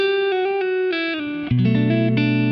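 An electric guitar plays a short lick from a song, clean sustained notes stepping down, then a slide into a held chord-like phrase, close and alone.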